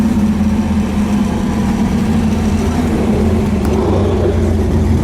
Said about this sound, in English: We're driving in the actual race car.